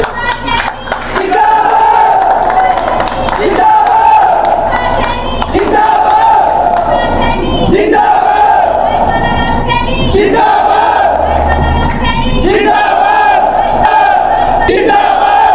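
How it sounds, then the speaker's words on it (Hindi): A large crowd at a Saini community political gathering cheers and shouts in repeated loud surges, with clapping mixed into the roar as a voice chants over the top. "जोरदार तालियां।"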